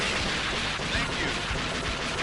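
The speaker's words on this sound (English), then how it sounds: "Heavy machine gun." Heavy machine gun in a video game firing a dense, continuous, loud stream of rapid shots with no pauses.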